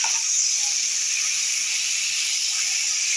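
Malabar spinach stems and vegetables frying in a pan for a traditional Bengali pui shaak chochchori, a steady close hiss of sizzling oil running evenly throughout with no voices.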